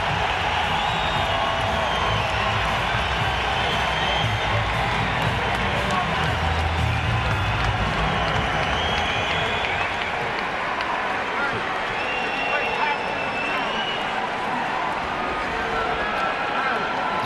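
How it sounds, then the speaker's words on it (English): The crowd at the 2003 Arturo Gatti vs Micky Ward third fight in New Jersey keeps up a dense, continuous roar of cheering and applause for Ward, with a commentator's voice running over it. "if the love of the crowd for Ward is manifest"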